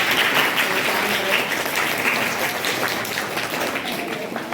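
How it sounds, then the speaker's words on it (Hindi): Schoolchildren at an intermediate college in Gonda, Uttar Pradesh, give sustained applause for a top-scoring student in a class 10 Hindi test, a dense and steady wash of claps all the way through. "हम चाहते हैं सभी बच्चे सिद्धार्थ शुक्ला जी के लिए ताली बजाएं"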